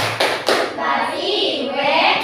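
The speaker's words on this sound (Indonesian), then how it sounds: "Kita tepuk wow ya untuk mereka ya. Tepuk wow." A classroom of children claps together in a rhythmic cheer, with sharp hand claps and thumps over a steady wash of kids' voices and chatter.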